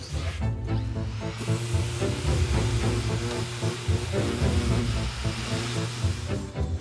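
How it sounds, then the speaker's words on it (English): Soft-grit sandpaper worked by hand over a wooden surface in a repair workshop gives a steady, continuous hissing rasp, close and moderately loud, with no pauses and no talking. "I'm working my way around with a really soft grit sandpaper until that purple comes out"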